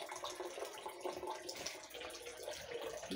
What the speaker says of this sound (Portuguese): Deixa eu botar água no arroz